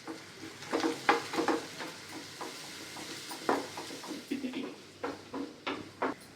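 Cumin, onion, curry leaves and turmeric frying in two spoons of oil for a chayote gravy: a quiet background sizzle broken by repeated clattering knocks and scrapes of stirring, close but fairly soft.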